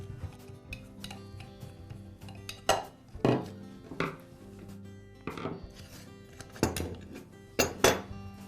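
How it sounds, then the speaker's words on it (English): Parts of a Makita angle grinder are handled at close range while the side handle and guard come off, giving scattered metallic clinks, taps and knocks against a hard surface, with no talking. "I'll begin by removing the side handle and the guard."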